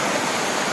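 River water rushes and roars steadily and loudly during a deep river crossing on foot in mountain terrain, a dense continuous wash with no voices over it.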